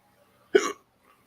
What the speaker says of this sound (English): If you hear me hiccuping, please forgive me.